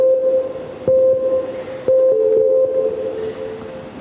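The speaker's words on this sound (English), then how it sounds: "That was the sound of a multi-stage fitness test" Timing bleeps from a multi-stage fitness test: a clear, steady electronic tone sounding in a few spaced beeps over a noisy background, fairly loud and with no speech.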